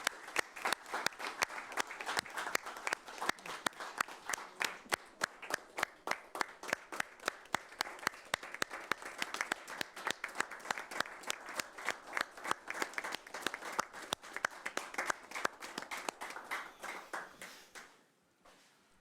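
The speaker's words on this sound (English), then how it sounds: "Let's give them a round of applause." Sustained applause from an audience at a public meeting, made of dense, rapid overlapping claps that continue steadily for about eighteen seconds and then thin out and stop, with no talking over them.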